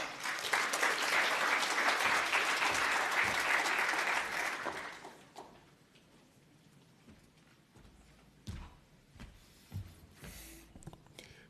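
A convention audience applauds for the Seychelles Television Services CEO at a broadcast and digital media event, a dense, loud burst of clapping for about five seconds that then stops abruptly, leaving quiet room noise and scattered bumps.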